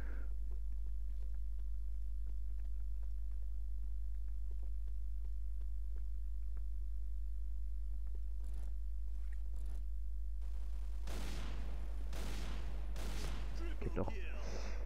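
Gunfire in the shooter game Project Blackout: a few loud, sharp shots burst out near the end, after a long stretch of steady low hum with faint clicks.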